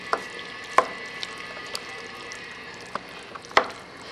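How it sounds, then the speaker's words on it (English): Chili stirred in a pot with a spoon: a soft, wet squishing under a faint sizzle, punctuated by several sharp clinks of the utensil against the pot, with no talking. "Now I'm giving it a nice stir."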